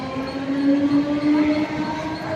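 A train idles at a platform at Dadar, Mumbai, a steady low mechanical hum with a sustained tonal whine, close by and without speech.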